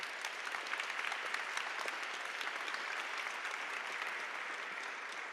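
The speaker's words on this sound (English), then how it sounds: "receive her with a great round of applause" An audience at a summit gives a steady round of applause as a speaker is welcomed to the stage, a broad, even roar of many hands clapping that holds at a constant level throughout.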